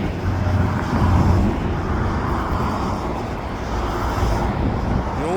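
A CN freight train hauling box cars and hoppers rolls past in a continuous broad rumble, loud and steady with wind buffeting, and no voices over it.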